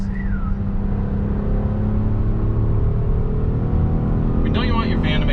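A 2021 Honda Odyssey minivan engine revs loud and close, holding a steady, rumbling pitch throughout.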